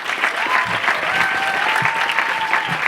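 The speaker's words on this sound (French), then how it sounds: "s'il vous plaît, faites du bruit pour Théo" Audience at a live comedy night applauding: dense, sustained clapping from a crowd, loud and close, continuous for a few seconds, with a brief voice over it.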